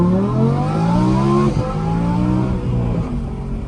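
An Audi R8 Performance engine drops through gears, its loud steady drone stepping down in pitch with quick blips at each downshift, heard up close from inside the car.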